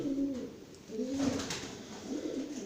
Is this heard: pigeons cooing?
yes